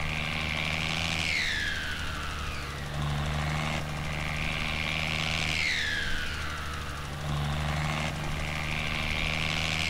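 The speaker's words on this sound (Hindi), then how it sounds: "भाई इसका पंप ही ऐसा है यार जो साउंड करता है ये" A New Holland 3630 tractor in Farming Simulator 19 runs with its pump engaged, a steady droning engine hum joined by a repeating whine that sweeps down in pitch every few seconds, loud and continuous with no talking.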